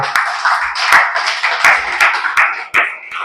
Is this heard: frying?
no